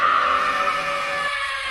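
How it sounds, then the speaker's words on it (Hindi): A car brakes suddenly and skids, a sustained high tyre screech that holds steady and then cuts off near the end, heard alone. "तभी गुल्ली गाड़ी की ब्रेक अचानक से लगा देता है।"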